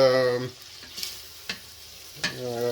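Garlic stirred in a frying pan, a few separate scraping taps over a faint sizzle, with brief tonal sounds at the start and end.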